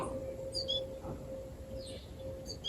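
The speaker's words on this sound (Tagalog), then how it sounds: "may ibon pa pero hindi yan siya" A small young bird gives a few faint, brief high chirps in a vegetable garden with bitter gourd vines, spaced apart over a steady outdoor hum.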